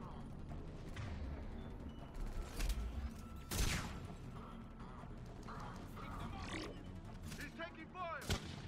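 Mass Effect 3 combat brings scattered gunshots and sharp blasts, some in quick bursts, fairly faint under a busy mix of game effects and occasional voices.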